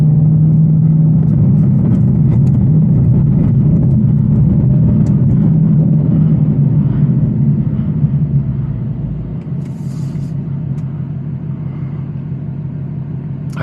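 Supercharged 810-horsepower Whipple GT350 engine held at low RPM with light throttle, a steady deep rumbling drone up close that eases slightly toward the end.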